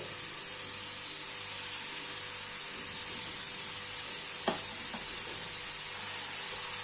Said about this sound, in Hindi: घी जैसे ही गर्म होगा डाल देंगे 1 किलो के करीब कद्दूकस की हुई गाजर